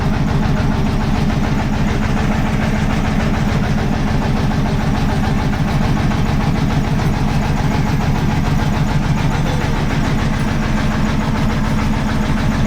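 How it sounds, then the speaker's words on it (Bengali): A small boat's motor runs in reverse gear to swing the boat back toward a jetty, a loud, steady close-up engine drone with rapid rhythmic thudding and no talk. "ব্যাক গিয়ারে আমাদেরকে নৌকাটাকে আবার ঘোরানো হচ্ছে জেটির দিকে।"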